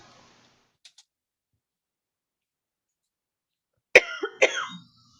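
A smoker's cough: after near silence and a couple of tiny clicks, one person lets out a short burst of harsh, raspy coughs close to the microphone.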